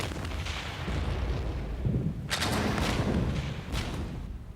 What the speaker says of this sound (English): The two ships exchanged a fierce barrage of broadsides and musketry for the next 2 hours.